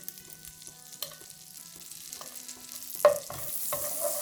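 Unsalted butter melting with two cardamom pods in a pan while making a vermicelli dessert, giving a soft, steady sizzle with occasional stirring scrapes that grow louder toward the end.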